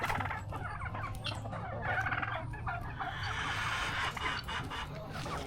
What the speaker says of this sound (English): See these roosters?